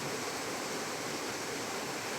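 The Falls of Monzie pour in a steady, dense rush of white noise that stays even and unbroken throughout, heard from close by with no other sounds.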